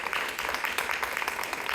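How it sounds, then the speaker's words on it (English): Audience applause for local candidates at a Lenexa candidate forum, a continuous patter of many hands clapping at moderate level with no talk. "give them a round of applause for participating in something."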